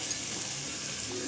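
Masala sizzles in hot oil for a mutton curry, a steady close-up frying hiss with faint stirring, no voices.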